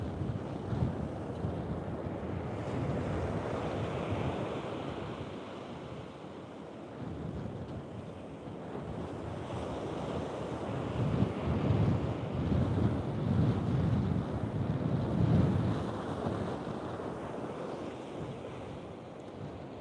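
Rough ocean surf at the Outer Banks roars steadily, with waves crashing in surges and wind buffeting the microphone.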